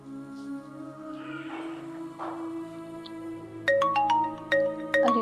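A phone ringtone chimes in a quick melodic pattern, starting after a few seconds over a background of sustained tones.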